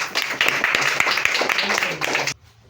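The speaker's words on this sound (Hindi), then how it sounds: "एक बार ताली बजा दीजिए प्लीज" A small group claps at an informal company gathering in India, a dense burst of hand claps mixed with voices that cuts off abruptly near the end.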